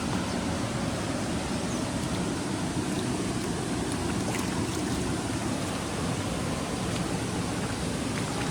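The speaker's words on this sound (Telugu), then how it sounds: "వాటర్ ఫాల్స్ ఉన్నాయి మన హోటల్కి ఎదురుగా." Steady, broadband rushing of a waterfall opposite a hotel at a resort in Munnar, Kerala, a constant roar of falling water with no breaks and no talk.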